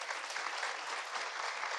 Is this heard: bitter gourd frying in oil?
no